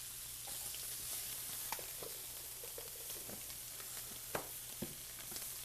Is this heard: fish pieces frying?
yes